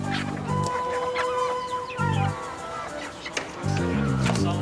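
Chickens cluck and squawk close by in a yard, their calls overlapping in irregular bursts, with a brief crow-like call mixed in.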